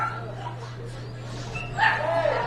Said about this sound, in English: It's bark at the park, so of course you're going to hear some barks.